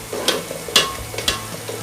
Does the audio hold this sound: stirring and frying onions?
yes